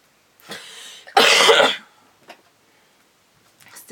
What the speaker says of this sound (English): Still got that cough there.